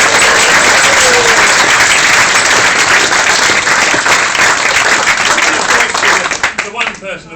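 At a wedding reception, guests applaud the two mothers of the couple at the top table. The clapping is loud, dense and sustained from a large crowd, then thins out into scattered claps before stopping.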